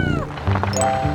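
A cat gives a single short meow, close and fairly loud, over some background noise.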